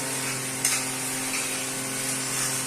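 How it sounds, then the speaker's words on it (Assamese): Masala frying in a pan for a chicken dish gives a steady, quiet sizzle with a faint scrape of stirring partway through. "ইয়াতে এইখিনি মই এতিয়া মছলাৰ লগত ফ্ৰাই কৰি ল'ম ধুনীয়াকৈ"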